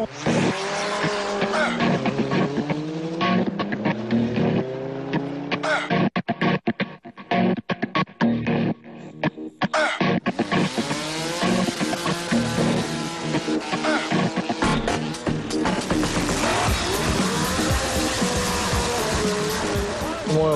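Lupo race car overtaking a Ferrari on a racetrack, tires squealing and skidding with engines roaring loud and close, a short quieter break midway, then sustained screeching.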